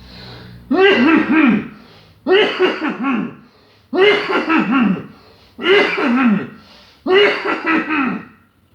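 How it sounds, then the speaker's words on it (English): Five loud, rasping coughs come one after another at steady intervals, each a short harsh burst followed by a brief pause. "Cough."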